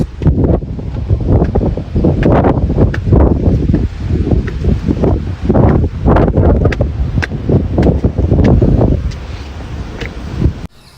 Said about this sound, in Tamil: இங்கே பார்த்திங்கன்னா நல்லா காற்றடிக்குது